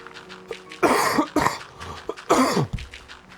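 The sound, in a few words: person coughing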